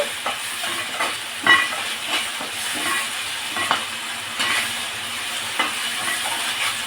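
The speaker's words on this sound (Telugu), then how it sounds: "ఇప్పుడు అల్లం వెల్లుల్లి పేస్ట్ వేసుకొని బాగా వేయించుకోవాలండి" Ginger garlic paste sizzles and fries with onions in a pan, a steady crackling hiss broken by several sharper spits and stirring scrapes, close and fairly loud with no talking.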